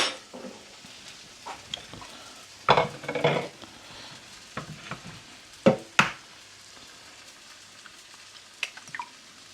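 Eggs cracked and fried in a pan, with irregular close clinks and taps from the shells and utensils over a faint sizzle, in quiet bursts and no talk.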